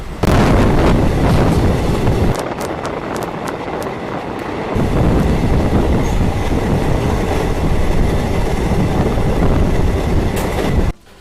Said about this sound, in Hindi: हमारी ट्रेन इस समय हरचंदरपुर पहुंच चुकी है।